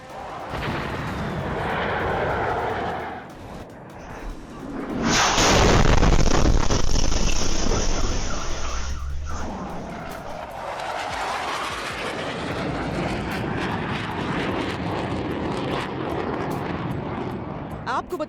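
A Russian Su-34 fighter jet's engines, a loud broadband roar that swells sharply to a close, harsh peak, then fades into a lingering rumble, with a voice talking over it.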